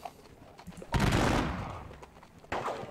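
Musket volley fire in the Napoleonic Battles Leipzig strategy game, a sudden crackling fusillade that decays over about a second, then a second sharp burst, both moderately loud with no talking.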